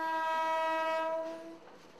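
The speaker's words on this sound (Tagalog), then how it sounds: "Tunog pa lang daw ng tren, mukhang palyado na." A PNR passenger train at a terminal blows a loud, steady horn with strong harmonic tones, then it fades over the last half second. The train is running in a faulty condition.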